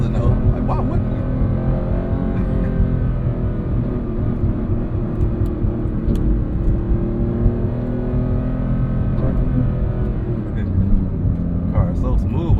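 Porsche 911 GT3 engine pulling hard in manual shift mode toward a 9,000 rpm redline, a loud, steady roar with rich low harmonics heard from inside the cabin, continuous throughout with a voice speaking over it.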